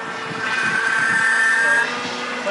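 An autonomous helicopter flies with a sustained whining rotor and engine drone, a steady tonal hum that swells in the middle and eases off toward the end, heard alone without talk.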